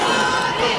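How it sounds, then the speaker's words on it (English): Dense boxing crowd roars and cheers in support of Martin Ward at the Summer Rumble 6 bout against Raynaldo Cajina, a loud continuous wash of voices filling a short burst. "As the crowd starts to get behind Mr."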